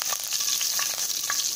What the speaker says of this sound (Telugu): ఇప్పుడు నూనె వేడైంది కదండి, ఇందులో జీలకర్ర, కరివేపాకు వేసి వేయించుకుందాం.